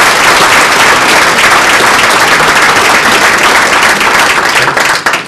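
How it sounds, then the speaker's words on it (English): A gala audience gives a round of applause, a dense and sustained wash of many hands clapping. It stays loud and steady throughout, then begins to thin and fade in the last moments. "if we could give them a round of applause"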